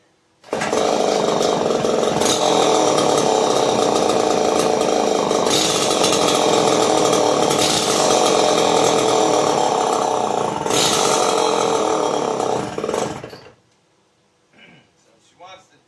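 A small engine runs loud and close at a steady, raspy pitch for about thirteen seconds with slight surges while the carburetor choke is adjusted, then abruptly dies away into quiet.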